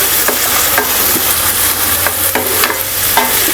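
Finely chopped onion sizzles steadily in a hot pan, loud and close, with a spatula scraping and tapping through it in quick irregular strokes.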